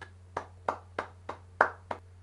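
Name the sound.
round of applause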